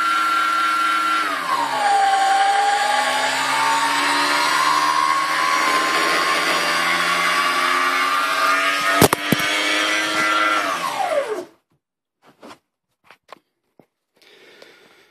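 An Arduino-controlled brushless electric scooter motor at full power whines loudly and steadily for about eleven seconds, the pitch dipping early then holding, with one sharp click partway, before cutting off abruptly to near silence and a few faint ticks.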